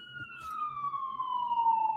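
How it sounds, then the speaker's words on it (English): An emergency vehicle siren passing outside, a steady wailing tone slowly dropping in pitch as it recedes, moderately loud over a faint background rumble. "Shout out to the siren."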